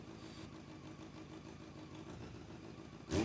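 A Honda CBR600 motorcycle engine idles steadily after finally firing up, with an even, low, rhythmic rumble throughout and a brief louder burst at the very end.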